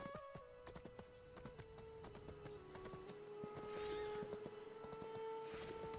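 Horse hooves clip-clopping in the video game Where Winds Meet, a rapid run of distinct close hoof strikes over game music and ambient tones, steady and moderately loud.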